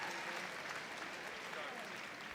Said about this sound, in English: Big round of applause for the Greyhound.